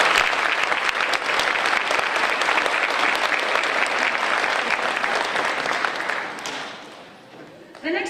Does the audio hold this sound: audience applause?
yes